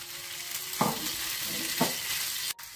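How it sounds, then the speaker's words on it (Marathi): Tomatoes and green chilies fry in a pan over ginger-garlic paste, a continuous close sizzle broken by a couple of brief stirring scrapes and a short clatter near the end. "आता आमी घालुया टोमॅटोज आणि ग्रीन चिलीज. आणि बरे फ्राय करूया."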